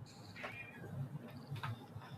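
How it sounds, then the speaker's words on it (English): A house cat meows repeatedly and insistently, several short cries spread across the moment, fairly close and moderately loud over a soft room background. "Somebody is meowing up a storm"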